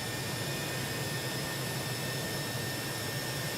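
The jet engines of a B-2 Spirit in a flight simulator give a steady, even roar with a faint high whine, unbroken and fairly quiet, with no talking.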